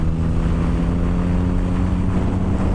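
Loud, constant wind buffeting with a low rumbling roar, close up and unbroken for a few seconds, while riding a 2016 Yamaha FZ-09/MT-09 motorcycle.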